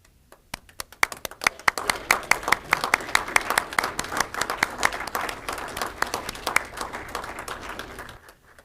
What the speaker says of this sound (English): I wish you would just stand so we could give you a round of applause.